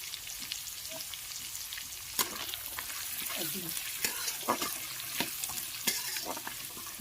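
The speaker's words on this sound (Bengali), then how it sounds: "দু মিনিট মতো এরমভাবে মিডিয়াম ফ্লেমে ভাজতে হবে।" Taro leaves with chickpeas and turmeric frying on a medium flame, an even sizzle broken by repeated sharp clicks and scrapes of a spatula stirring the pan, close and without speech.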